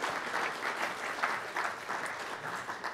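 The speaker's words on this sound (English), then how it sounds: "let's give Bob and the foundation another round of applause" An audience in a university presentation hall gives Bob Carr and his foundation a sustained round of applause, dense steady clapping that carries on evenly throughout, fairly quiet and at a distance.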